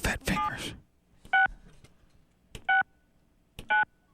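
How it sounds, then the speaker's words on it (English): Telephone keypad dialing tones on a radio morning show: three short, evenly spaced beeps sound after a burst of speech, each crisp and clear against near silence. "No, Billy you dialed the wrong number."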